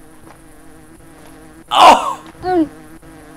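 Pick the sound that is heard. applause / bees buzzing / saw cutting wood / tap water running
bees buzzing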